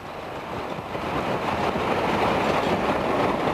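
Steam train hauled by locomotive 62005 alongside The Great Marquis on a Whitby moors line, a broad steady rumble of running carriages that swells slightly and holds, with no voices.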